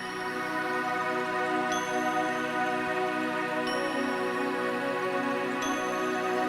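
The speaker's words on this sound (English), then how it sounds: "I added these little wind chime like bell sounds, the synth bell sounds that you can hear" Synthesized wind-chime-like bell tones from an M1 synthesizer ring out every couple of seconds, bright chime-like strikes over a sustained, dense synth pad that plays continuously.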